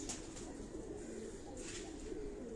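Pigeons of various breeds coo in a rooftop breeding setup in Karachi Defence, a soft continuous murmur of low calls with a few brighter chirps, steady and fairly near, with no talk.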